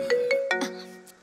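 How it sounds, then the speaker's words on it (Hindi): A mobile phone ringtone chimes close by: a few quick bright tones followed by a sustained ringing note that fades out, with no talk. "अरे किसी का फोन आ रहा है"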